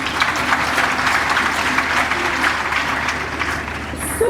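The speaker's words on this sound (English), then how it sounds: "Clap for KNUST." Audience applause fills a KNUST 59th congregation ceremony, a dense, steady roar of many hands clapping at even loudness throughout, with no voices standing out.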